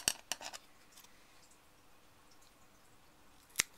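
A few crisp snips as a Ludwigia repens aquarium plant stem is cut with scissors, close and quiet: several quick clicks at the start, then near silence and one sharp cut at the end.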